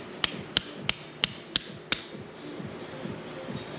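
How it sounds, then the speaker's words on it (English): Six sharp metallic hammer strikes ring out at an even pace, close by, on the front seat hardware of a 1967 Volkswagen Beetle Convertible, followed by quieter shuffling and faint handling noise. "So I'm going to take now the hammer, see if we can"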